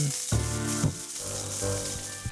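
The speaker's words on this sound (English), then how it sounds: "measure half a cup of rat sputum and pour it into the frying pan" Liquid poured into a hot frying pan, hissing and sizzling in bursts with tonal bubbling swells, close and fairly loud.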